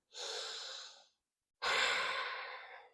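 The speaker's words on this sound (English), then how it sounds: "One more full breath here." Two slow, deep breaths during a yoga hamstring stretch, a soft inhale followed after a short pause by a longer, louder sighing exhale, close and quiet with no talking.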